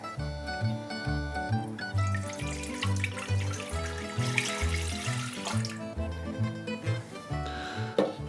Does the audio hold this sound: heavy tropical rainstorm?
no